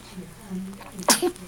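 A single short, sharp sneeze bursts out near the end, after soft murmuring voices.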